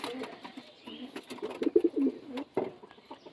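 Madras pigeons cooing close by in a series of soft throaty coos, bunched and uneven, with a few faint rustles and clicks in between.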